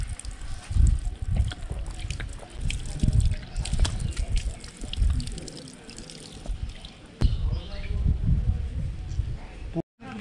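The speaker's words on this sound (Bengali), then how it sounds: "তো এখান থেকে আমি জল ভরে নেবো এবার।" Water running from a drinking water tap into a container at Ajodhya Pahar in Purulia, a steady splashing trickle heard outdoors under a person's voice.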